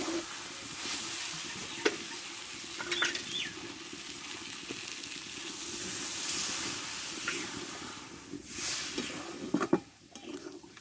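Jackfruit curry sizzles in a pan while being stirred, a steady frying hiss broken by a few scraping knocks of the spoon, close and moderately loud with no voices.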